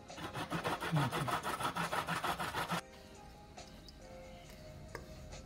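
Fresh ginger is rubbed against a grater for Jamaican toto, a quick, even run of rasping strokes, close and steady for about three seconds before stopping. Faint room noise follows.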